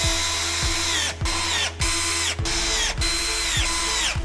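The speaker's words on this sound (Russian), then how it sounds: "Мастер на видео использует шуруповерт." Cordless screwdriver driving self-tapping screws into a single bed frame with a lifting mechanism, the motor whirring in several loud bursts, each falling in pitch as the screw seats, separated by short pauses.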